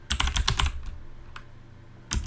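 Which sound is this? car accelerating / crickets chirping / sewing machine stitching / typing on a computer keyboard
typing on a computer keyboard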